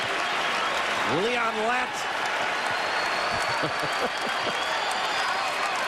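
A basketball arena crowd at a Pitt versus Providence college game applauds and cheers in a broad, sustained roar, with a commentator talking over the noise.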